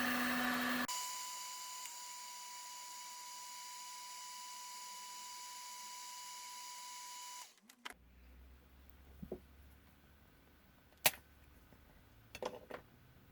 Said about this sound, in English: I'm going to hit that with the heat gun too